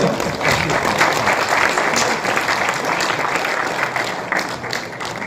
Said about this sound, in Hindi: तालियां तब तक बजती रहनी चाहिए जब तक सर मंच तक ना आ जाए।